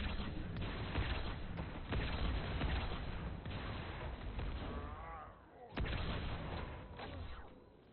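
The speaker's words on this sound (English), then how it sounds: "These enhanced explosions make the game very fun" Explosions and gunfire in Halo: The Master Chief Collection rumble in dense, overlapping booms, with a few sharp cracks standing out from the continuous roar.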